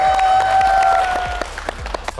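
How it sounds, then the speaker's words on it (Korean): Studio applause for a Korean variety quiz show, a short round of several sharp claps from a small group, close and lively, thinning out toward the end. "박수 한번 주고 박수 한번 주고."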